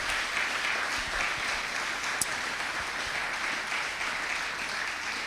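A church congregation applauding in acclamation after a reading, a dense, steady wash of clapping from many hands filling the space for several seconds.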